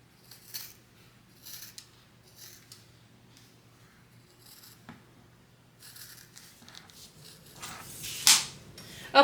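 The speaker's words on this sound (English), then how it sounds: "I'm going to be trimming down this entire seam allowance down to about 1/8 of an inch." Scissors trimming a fabric seam allowance down to about 1/8 inch while sewing a sling bag: faint, scattered snips and rustles, with a sharper, louder cut near the end.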